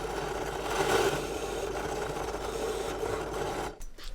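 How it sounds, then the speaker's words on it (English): A hole is drilled through a clamped wooden jig part backed by scrap wood, giving a steady, close grinding whir with a slight rise in pitch partway through that cuts off near the end, with no talk. "Let's drill the hole now."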